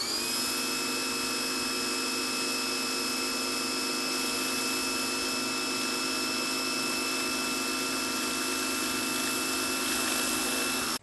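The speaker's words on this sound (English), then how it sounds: "As you can see, the spinning patio cleaner makes quick work of any job." Generac 4200 PSI gas pressure washer driving a spinning patio cleaner: a constant loud engine and pump drone with steady high whine tones, unbroken for the whole stretch, no voices.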